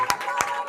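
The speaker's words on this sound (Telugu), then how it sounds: "చప్పట్లు కొట్టి ఆరాధించుదాం" Worshippers in a church congregation clap in rhythm, with two sharp, evenly spaced claps and a third starting, mid-distance over a faint background hum.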